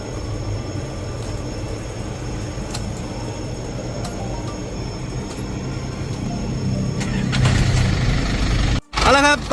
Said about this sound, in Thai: สตาร์ทเครื่องฟังเสียงเครื่องกันนะครับ